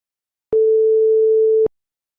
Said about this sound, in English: Let us now listen to a sine wave of frequency 440 Hz.